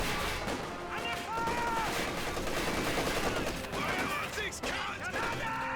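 Sustained suppressive machine gun fire in a Company of Heroes 2 battle, dense overlapping bursts and gunshots rattling continuously with scattered impacts and explosions mixed in, loud throughout.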